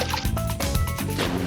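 A golf ball drops into a water hazard on a course with a short, wet splash and some dripping, fairly close and clear, without talk.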